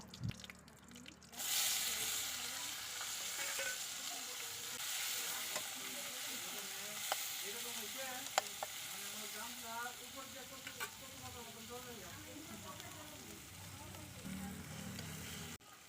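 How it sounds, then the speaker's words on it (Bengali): Spices, chopped onion and crushed garlic frying in hot oil for a chicken dish cooked on a clay stove, a steady close sizzle with stirring and scraping sounds throughout, no talk. "তেলটা গরম হলে রেডি করে রাখা ফোড়নটা দিয়ে দেব ফোড়নটা একটু ভাজা হলে তার মধ্যে কুচিয়ে রাখা পেঁয়াজ ও থেতো করে রাখা রসুনগুলি দিয়ে দেব"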